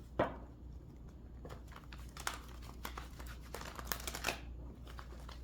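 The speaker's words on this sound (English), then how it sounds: "So let me shuffle and see what messages Spirit has for the viewers today." Tarot cards are shuffled by hand, giving quiet, close papery riffles and crinkly flutters, with a few sharper slaps in a loose, irregular rhythm.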